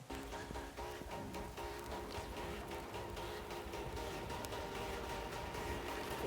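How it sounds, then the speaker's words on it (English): Dense, glitchy electronic music texture with stuttering repeated fragments over a steady, full-band wash, looped and chopped by an Arturia Efx Fragments data repeater effect, continuous and loud throughout with no talking. "So I used here the preset data repeater."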